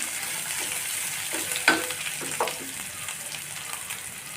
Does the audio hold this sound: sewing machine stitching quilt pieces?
no